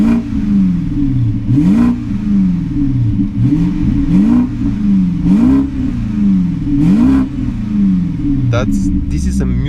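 BMW 745i E65 V8 with rear muffler delete and cut-off valve exhaust, revved indoors in a rapid series of loud, rising and falling blips over a steady rumbling idle, with a brief voice near the end.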